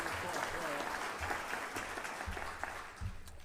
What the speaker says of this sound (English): A round of applause, please, for General Stevens.